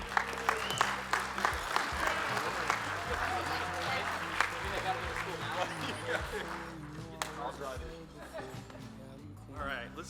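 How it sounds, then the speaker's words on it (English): Applause and cheering from a policy summit breakfast audience after a live performance, crowd clapping dense at first and gradually thinning, with some talk and noise mixed in and faint music fading out. "give one more round of applause for James Quintero"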